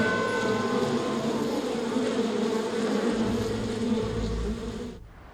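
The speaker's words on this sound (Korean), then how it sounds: "지금부터 꿀벌의 비행을 따라가 보겠습니다" Honeybees from rooftop hives in central Seoul buzzing in flight, a steady dense drone of many wings close by that continues evenly before dropping away abruptly at the end.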